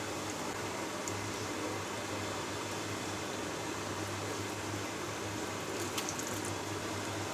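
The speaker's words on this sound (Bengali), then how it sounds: "এই জন্য মিডিয়াম আঁচে আস্তে আস্তে ভাজতে হয়।" Jalebi fry slowly in hot oil over medium heat, making a continuous soft bubbling hiss with a few faint crackles. There is no talking over it.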